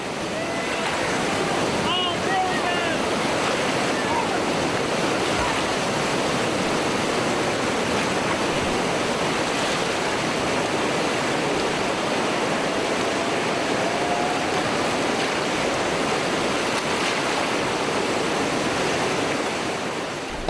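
Whitewater river rapids roar steadily while rafting near Nelson, British Columbia, a dense, loud, unbroken rush of water with wind buffeting the microphone throughout.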